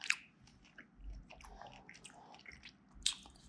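Quiet, close chewing and biting on spicy Vietnamese shrimp food wrapped like a tamale, with soft wet squishes and a couple of sharper crunchy bites, no talking.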